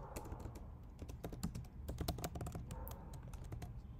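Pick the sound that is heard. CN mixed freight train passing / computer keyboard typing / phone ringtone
computer keyboard typing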